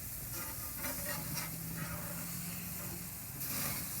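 Burgers sizzling steadily on a hot ten-year-old Weber gas grill, a constant close crackling hiss with no talk.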